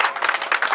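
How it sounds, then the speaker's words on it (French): A short stretch of applause from an audience at an award presentation, dense and even clapping, close and fairly loud. "on peut l'applaudir."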